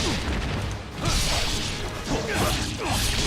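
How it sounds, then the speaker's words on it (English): Explosions fill the action game Ninja Gaiden Sigma 2 Black, loud continuous booming blasts and whooshing debris, rolling crashes overlapping densely with no pause in the noisy battle. "Gosh, they love their explosions"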